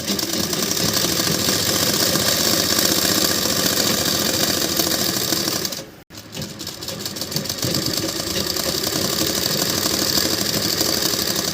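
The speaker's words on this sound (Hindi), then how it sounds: "अब यहाँ ये निशान से सिलते हुए लॉक करके आगे बढ़ेंगे।" A sewing machine runs steadily while stitching the side seam of a long suit, a loud continuous motor whir with a brief stop near the middle before it resumes.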